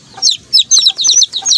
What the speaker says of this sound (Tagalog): Kahapon lang po napisa to mga manok oh